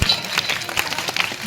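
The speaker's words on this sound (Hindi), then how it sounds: "जोरदार ताली।" Audience clapping at a Hindi Ram Vanvas stage performance, a short burst of dense, loud applause right after the call for a big hand.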